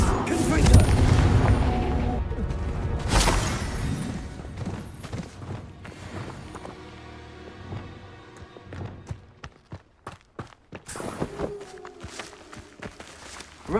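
A disarming spell fires in Hogwarts Legacy with a loud booming burst and a sharp crack, then fades into lighter clicks, taps and scattered impacts before another swelling magical surge.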